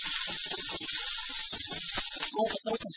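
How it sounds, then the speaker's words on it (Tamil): Onions fry in a pan for garlic dosa, a loud, steady sizzling hiss that runs the whole time, with a voice talking beneath it. "வெங்காயத்தை வந்து நல்லா குக் ஆகட்டும்"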